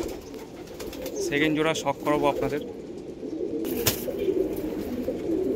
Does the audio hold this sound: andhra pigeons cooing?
yes